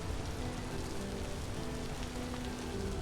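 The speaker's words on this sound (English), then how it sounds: "I think this is the first time it's rained since we moved here." Steady rain falls outdoors in a steady, even hiss that never lets up, with faint tonal background hum and no voices.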